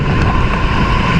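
Floodwater from an overflowing river in Cainta, Rizal during Typhoon Carina and the monsoon rains gives a loud, close, continuous rush mixed with buffeting wind noise in a short burst.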